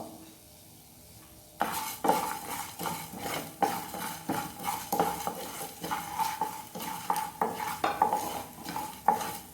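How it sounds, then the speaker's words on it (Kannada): Cloves, cardamom and star anise frying in a pan for restaurant-style chicken Chettinad, with a spoon stirring in steady scraping strokes and clinks against the pan over a light sizzle, starting after a quiet moment. "2 ಲವಂಗ, ಒಂದು ತುಂಡು ಸ್ಟಾರ್ ಹಾಕಿ ಇದನ್ನು ಫ್ರೈ ಮಾಡಿಕೊಳ್ಬೇಕು."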